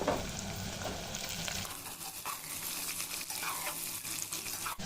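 Carrots, peanuts and other vegetables frying gently in oil over a low flame for a hotel-style poori curry, a steady close sizzle with a hiss running throughout and no talking.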